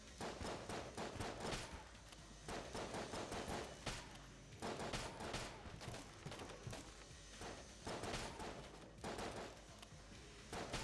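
Rapid bursts of gunfire from the bullet-hell video game Enter the Gungeon, volleys of shots repeating in quick clusters at a steady, busy rhythm with no talk over them.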